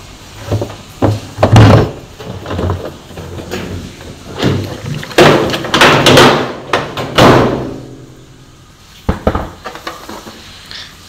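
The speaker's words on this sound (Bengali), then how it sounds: "এই যে আমি মেশিনটাকে খুলছি" A washing machine being opened up and taken apart, with uneven clunks, knocks and scraping handling noises in irregular bursts, some loud and close, then a quieter pause before a few final sharp clatters.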